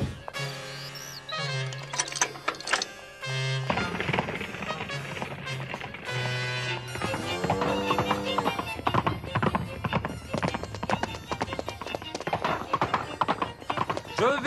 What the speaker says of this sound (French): Avec un cheval, on va beaucoup plus vite.